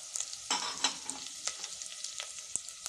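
Spices and salt being stirred into an amla pickle, a run of quick scraping and sizzling strokes in a pan, near and fairly quiet, with no voices.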